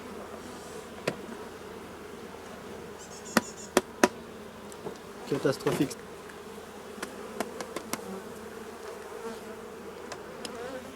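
Honeybees swarm around an opened beehive with a continuous close buzzing, broken by several sharp knocks and clicks, likely from handling the hive, while one word is spoken briefly.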